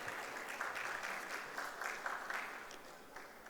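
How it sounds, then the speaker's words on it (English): A conference audience at a semiconductors and special materials session claps, a soft, distant-sounding patter of many hands that runs steadily and gradually thins toward the end. "Can we all give a huge round of applause once again"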